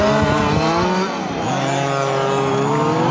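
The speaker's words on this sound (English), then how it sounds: "You can hear his RPM turn right up and the car accelerate." A 1/5 scale RC on-road race car engine screams at high revs on a speedway, its pitch climbing as it accelerates, loud and close and steady throughout, with a brief dip before it winds up again.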